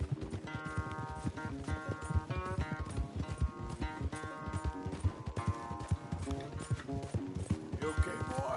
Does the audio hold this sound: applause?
no